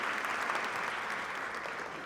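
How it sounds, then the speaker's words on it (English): Sustained audience applause fills a room at a Latina heritage brunch, dense and steady clapping from a crowd at moderate loudness, with no voices on top. "let's give ourselves a round of applause"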